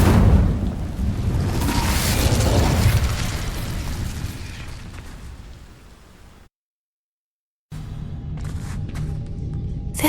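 A fire spell ignites dry vines in Hogwarts Legacy with a loud burst and crackling roar that gradually fades into silence, followed by quieter ambient game sound.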